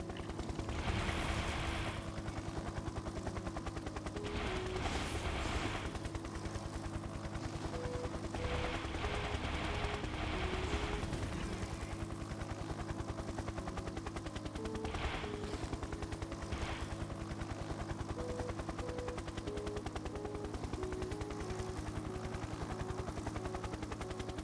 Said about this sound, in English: So I get how to fight with the helicopter now.